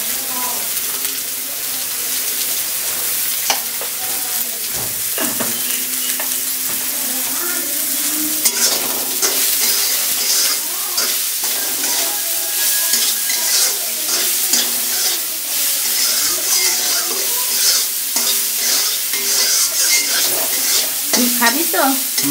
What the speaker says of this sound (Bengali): প্রথমে পেঁয়াজটা ভেজে নিচ্ছ, তাই নাকি?